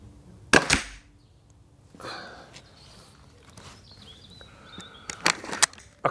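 A Remington Express .22 air rifle fires at small targets, each shot a sharp, close crack, with one early report and a cluster of snappy shots near the end over a quiet background.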